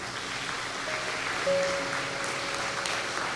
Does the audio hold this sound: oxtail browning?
no